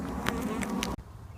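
A big honeybee colony from under a shed floor hums in a dense, close buzz with a few sharper bursts, then cuts off abruptly near the end, leaving quieter buzzing.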